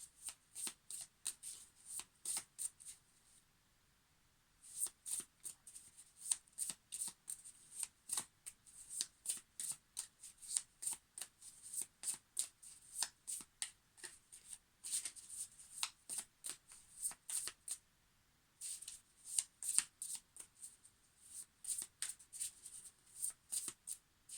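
Tarot cards from a Light Seer's deck are shuffled by hand at close range, giving a long run of crisp riffling bursts with brief pauses in between and no talking.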